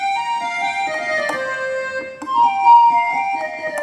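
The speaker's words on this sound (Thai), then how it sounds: "เป็นแอคคอร์เดียน" An electronic keyboard set to an accordion voice plays a Thai procession-style melody: reedy, sustained notes moving in steps, fairly clear and alone.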